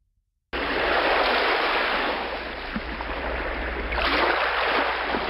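Steady broadband rush of water from a stock effects library, like surf or flowing water, loud and continuous after a brief silent start, with a slight swell near the end.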